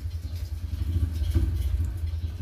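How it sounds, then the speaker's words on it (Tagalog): A motorcycle engine rumbles outside, a steady low drone that swells slightly around the middle and then holds, heard from some distance indoors. "Ingay ng motor."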